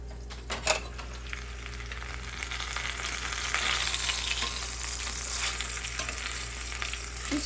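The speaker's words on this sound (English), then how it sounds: "I'm going to cover this and let it start cooking up" Chicken for curry cooks in a covered pot, giving a steady, soft sizzle and frying hiss with a few brief clinks near the start, over a constant low hum.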